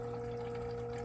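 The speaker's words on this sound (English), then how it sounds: "You can hear the water still flowing through the intercooler." Water circulates through the intercooler of an XC90 V8 turbo diesel after engine shutdown, a faint steady pump hum with low liquid flow and tonal whine, continuous and close.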